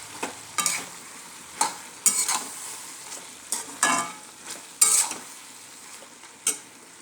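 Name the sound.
stir-frying tomatoes with chili paste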